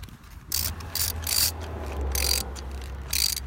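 Ratchet tightening a spark plug on a 2007 Mercedes-Benz ML350 engine, several bursts of rapid clicking pawl strokes in a steady back-and-forth rhythm, close and clear with no talk.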